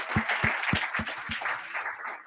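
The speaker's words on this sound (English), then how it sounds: "give them a big round of applause" An audience at a national youth pitch competition gives a round of applause, a fairly quiet wash of clapping with a few low thumps near the start, fading slightly toward the end.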